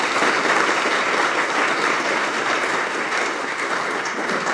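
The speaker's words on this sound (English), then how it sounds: "he deserves a round of applause" An audience at a University of Kentucky event applauds Nathan of NOHMs Technology with steady, dense clapping that fills the room without a break.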